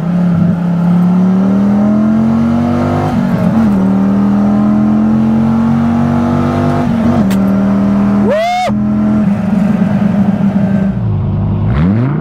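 A second-generation Dodge Viper GTS with a six-speed manual revving hard in second gear, a loud, close engine note climbing steadily, a brief pause and shift, then climbing again to the end.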